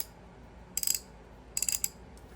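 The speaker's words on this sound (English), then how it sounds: "These were made in Japan, and they're a really nice ratchet." A Japanese-made tri-wing thumb wheel ratchet clicks in two short bursts of rapid, crisp, close ticking, each about a quarter second long, with quiet room tone between.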